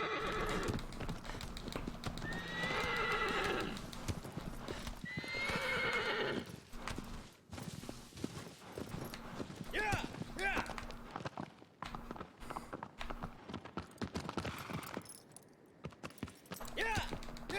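In the Shadow of the Colossus video game (2018), the horse Agro gallops with steady clip-clop hooves and loud whinnies over game music, while a person talks throughout.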